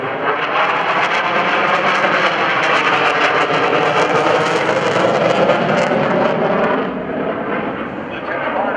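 An F/A-18C Hornet jet roars through a low airshow demonstration pass, a loud, sustained broadband engine blast that holds steady for most of the stretch before easing slightly near the end.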